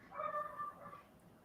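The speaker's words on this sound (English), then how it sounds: "The dog's barking." A dog gives a brief yelping bark and whine, a single short burst heard faintly indoors behind quiet room tone.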